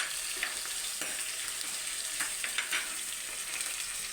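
Green chillies and ginger fry in a little hot oil for a crab curry, giving a steady close sizzle with faint stirring scrapes and small pops throughout.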